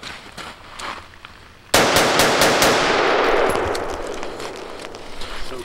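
A short-barreled 11.5-inch Amtac Centurion rifle fitted with a Surefire 3-prong flash hider and firing Black Hills 62-grain ammunition lets off a burst of about five loud, close shots over a steady background hum, and the roar fades slowly into a long echo.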